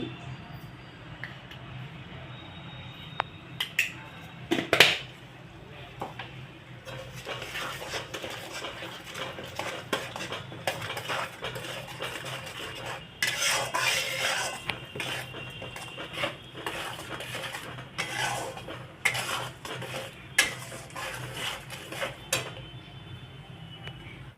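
Spoon scraping and clinking in a pan while a cauliflower roast with flour-and-yogurt mixture is stirred, close and busy with irregular metallic taps over a low cooking background.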